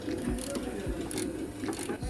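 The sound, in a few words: ratchet spanner undoing subframe bolts on 2007 Ford Fiesta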